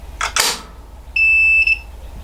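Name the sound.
beep from DRO (digital readout) powering up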